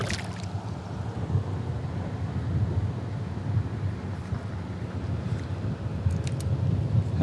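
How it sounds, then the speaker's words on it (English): Steady wind buffets the microphone outdoors on a fishing trip, a constant low rumbling roar lasting throughout, with faint water sounds and no talk. "The wind has picked up on me."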